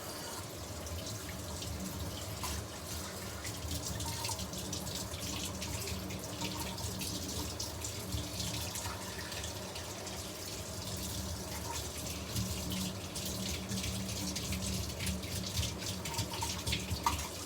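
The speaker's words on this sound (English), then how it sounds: "Maybe I should rinse it out, because it's first use." Water from a tap runs steadily over a glass French press being rinsed before its first use, a continuous close splashing with occasional drips and no talk.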